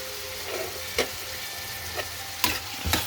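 Cashews stirred into food frying in a pan give a steady close sizzle, with a few sharp scrapes and taps of the spoon against the pan.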